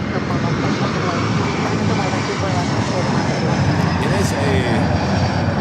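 A Delta Boeing 757 taking off from runway 24 left at Los Angeles International Airport, its jet roar loud, steady and broadband throughout, while someone talks over it.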